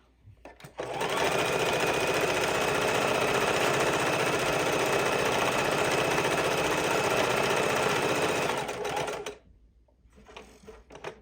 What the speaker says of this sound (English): Needle down, foot up, pivot, and let's go down this side.